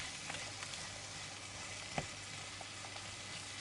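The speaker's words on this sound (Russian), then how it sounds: "Пусть жарится минут 10-15." Chopped peppers frying in a pan for a Hungarian bean soup in a village kitchen, a steady close sizzle with a few faint stirring knocks, no talking.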